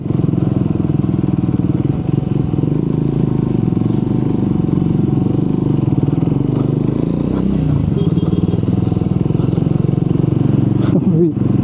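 A motorcycle climbs a steep, narrow uphill road where no cars can pass; its engine drones loud and close without a break, with a brief clatter near the end.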